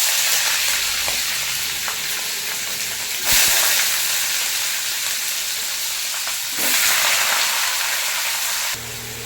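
Chicken pieces frying in hot oil with a steady loud sizzle and hiss, close up, swelling briefly at moments as food is stirred or moved, no voices.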